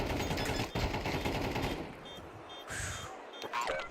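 Gunfire in Counter-Strike during a professional tournament match: dense rapid automatic shots that thin out into a few scattered bursts and metallic clinks, moderately loud, with no voices over it.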